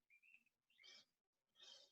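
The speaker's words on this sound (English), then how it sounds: "I hear the birds chirping." A few faint, high chirps from a bird, with a short thin call and then two brief fluttery bursts separated by quiet.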